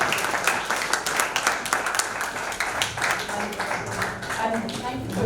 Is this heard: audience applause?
yes